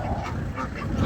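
At a poultry and bird market in Ganja, ducks quack and honk in short nasal bursts close by, a rough cluster of calls with no talking.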